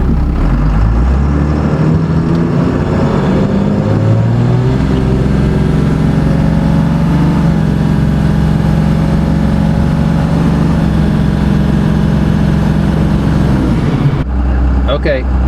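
A twin-turbo Cummins diesel swapped into a Ford F250 cranks and catches, then settles into a loud, steady, clattering idle with a deep low rumble that holds for several seconds before cutting off abruptly near the end.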